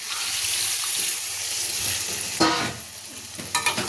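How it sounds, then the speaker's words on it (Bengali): Mutton curry sizzling in a pan gets a sudden splash of water poured in, a bright hissing burst near the middle followed by softer stirring and bubbling sounds. "এবার আমি জল দিয়ে দেবো এর মধ্যে।"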